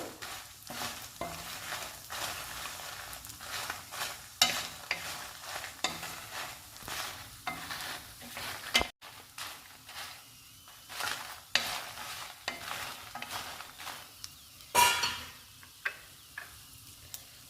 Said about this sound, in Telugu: ఇప్పుడు వేసినవన్నీ వేయించుకోవాలి